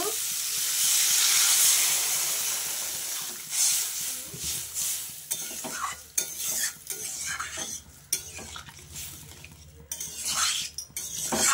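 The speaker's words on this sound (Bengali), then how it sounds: "এবার আমি জল দিয়ে দেব।" Water poured into a hot pan of tomato, salt and spice curry for a sour puti fish dish with raw tomato and potato: a loud sizzling hiss up front, then clinks and scraping of a spoon stirring.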